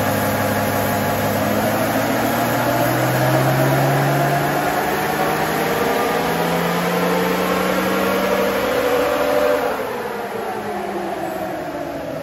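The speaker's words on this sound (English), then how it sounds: "We're about to head to the dyno, give it a tune up and see what results we get." A Toyota 1HD-FTE diesel fitted with a big R-Max snorkel runs hard on a dyno during a tune-up, a loud, close, steady drone whose pitch climbs and falls through the run, then eases off near the end.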